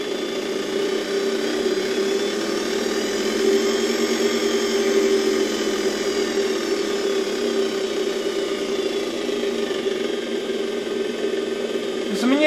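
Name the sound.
vintage Electrolux 7 vacuum cleaner motor running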